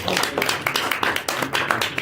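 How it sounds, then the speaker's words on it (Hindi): Brief, fairly close rhythmic audience clapping at a poetry recitation, a quick run of claps with a voice partly overlapping. "मारो ताली भाई।"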